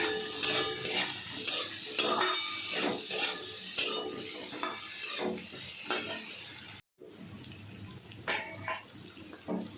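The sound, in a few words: frying taro with bay leaf, turmeric and salt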